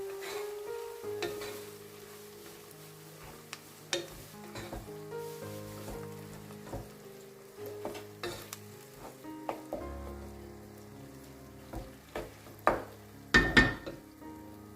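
Onions and tomatoes fry in a pan for a spicy okra and potato curry, a steady sizzle broken by stirring scrapes and occasional clinks of a spoon against the pan, with a louder clatter near the end.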